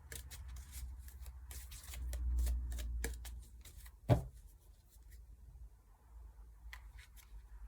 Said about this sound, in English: I just picked this up and started shuffling the deck